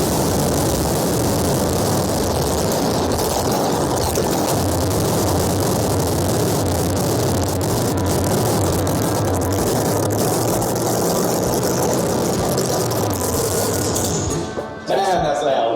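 A petrol monster truck engine roars at full throttle, a loud continuous drone held for many seconds up close before it suddenly cuts away.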